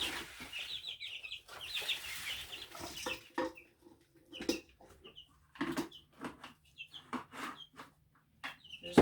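Two-week-old broiler chicks cluck and chirp close by while their feed is scooped, with scraping and rustling between bursts of calls that come in uneven clusters, no talk.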